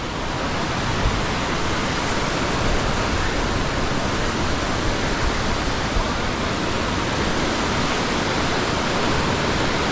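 Waves roll in on Kata Beach in Phuket, Thailand, as the tide comes in, giving a constant loud wash of surf with no distinct breaks, steady and broad throughout.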